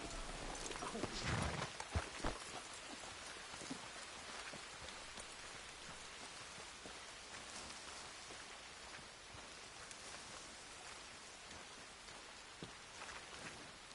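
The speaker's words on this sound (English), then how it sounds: "Rain falls against the custom." Steady rain in Red Dead Redemption 2 patters close by in a dense hiss, with a few louder splashy bursts near the start; no voices.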